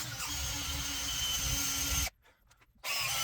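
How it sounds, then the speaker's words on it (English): A power drill spins a strip of ash wood clamped at one end to form a dowel, giving a steady, close whirring drone that cuts out briefly and then starts again, with no talking. "I could chuck one end of the ash strip into my drill"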